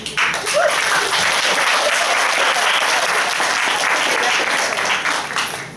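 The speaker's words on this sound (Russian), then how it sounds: "Самые громкие аплодисменты, это, кажется, были" An audience at a school students' debate breaks into loud, steady applause that fills the whole stretch, a dense wash of clapping from many hands with no pauses.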